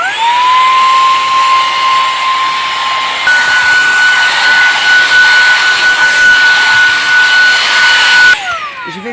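A VacTechPro V15 Ultra stick vacuum cleans a rug with a loud, steady, high whine. The motor steps up in pitch partway through, then winds down near the end.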